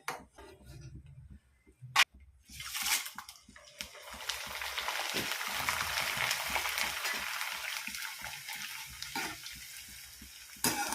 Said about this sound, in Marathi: आता जे मकईचा पोहा आहे तो आपण तळून घेऊया व्यवस्थित